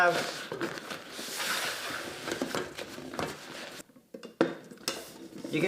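Pots, pans and plates clink and clatter in a busy burst of kitchen handling, with scattered metallic knocks throughout and a brief lull near the end.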